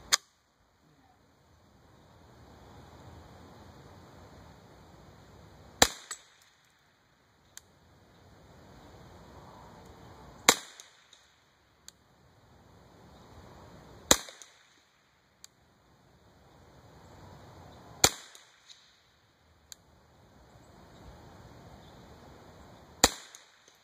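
Mossberg Plinkster 702/715 .22 rifle firing single sharp cracks, about five spaced shots a few seconds apart with quiet handling noise between, close and moderately loud.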